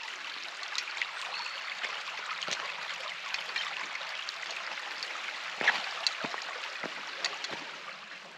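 Water being filtered on a summer backpacking trip gives a faint, continuous trickle with a few small clicks and taps scattered through it, heard up close.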